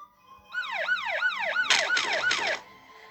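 A police car siren wails in rising and falling sweeps, then a sharper, louder wail with repeated bursts takes over, heard clearly with no talk before cutting off near the end.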